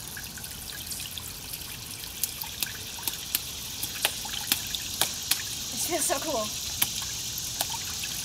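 Water trickles steadily in a small backyard creek, a soft continuous babble with scattered sharp clicks and splashes, while a voice chimes in briefly near the end.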